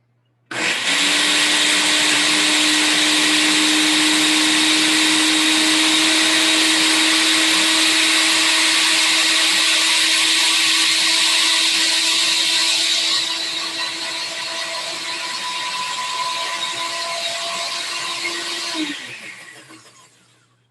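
A regular, non-high-speed blender whirs loudly and steadily for about eighteen seconds while blending horchata ingredients, its pitch easing partway through before it winds down and stops.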